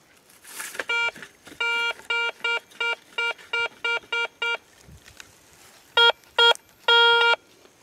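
A metal detector out hunting militaria sounds over buried metal with a run of evenly spaced, clear electronic tones, close and loud. Then comes a brief pause, two quick tones and a longer final one, with no talking.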